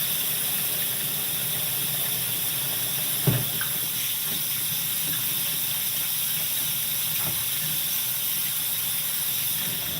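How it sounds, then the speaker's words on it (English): Water runs steadily from a kitchen tap as hands are washed, a constant close hiss with one small knock early on and no talking. "let me wash my hands real quick"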